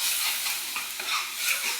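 Ground spices, chili powder, cumin powder and ginger paste sizzling in hot oil for a chital fish curry, a continuous bright frying hiss with soft stirring scrapes, close and steady.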